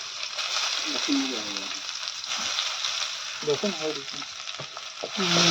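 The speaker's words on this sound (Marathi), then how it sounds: "कांदा मस्तपैकी तेलामध्ये परततोय" Chopped onion fries in oil over a cumin and mustard seed tempering with garlic and curry leaves, making a loud, continuous close sizzle with occasional stirring while a person talks intermittently over it.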